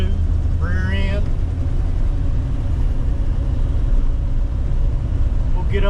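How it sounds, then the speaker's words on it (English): A 1955 Ford Fairlane Custom Line with a brand new 302 motor idles with a steady, low, close rumble, and someone talks over it throughout. "This car's got a brand new 302 motor in it."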